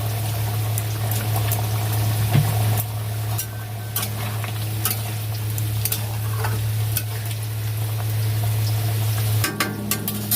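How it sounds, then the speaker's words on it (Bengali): Bitter gourd pieces fry in a pan with a continuous close sizzle and crackle, occasional stirring clicks and a steady low hum underneath, with no talking. "করলা আর্ধেকগুলো ভাজা হয়ে গেছে আর্ধেকগুলো ভাজা হচ্ছে"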